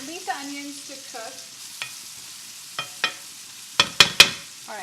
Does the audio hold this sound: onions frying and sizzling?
yes